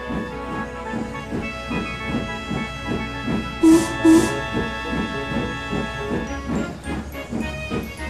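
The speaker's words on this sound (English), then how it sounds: "Just then, the engines heard an unfamiliar whistle." Steam locomotive Princess Elizabeth arriving at a station, with a rhythmic chuffing of steam and clanking under a steady tonal hum and two short bright whistle blasts midway.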